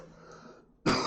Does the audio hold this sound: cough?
yes